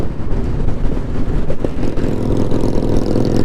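A petrol motorcycle engine passes close by on the road, its steady mid-pitched drone and throttle rumble filling the whole stretch loudly, with no talk over it.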